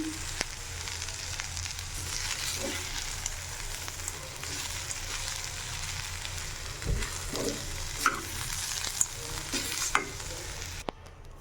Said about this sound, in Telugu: కొద్దిగా చెనక్కాయ పొడి వేసుకున్న తర్వాత బాగా మిక్స్ చేసుకోవాలి